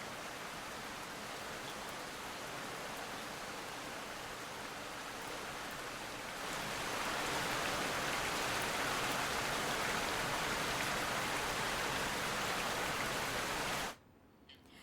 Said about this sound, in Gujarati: છેલ્લા 1 કલાકથી ત્યાં ધીમી ધારે વરસાદ વરસી રહ્યો છે